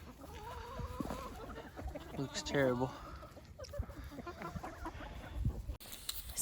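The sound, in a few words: chickens clucking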